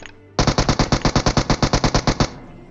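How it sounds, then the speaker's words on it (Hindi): Rapid automatic gunfire in a first-person shooter video game, a single loud burst of about nineteen evenly spaced shots lasting around two seconds, close and sharp with no talk over it. "ओ भाई यहाँ पे देखो लेफ्ट से गोलियां आ रही।"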